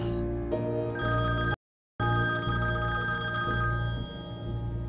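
A telephone rings with a bright, steady electronic tone that repeats, cut by a brief silence before ringing again, loud and close.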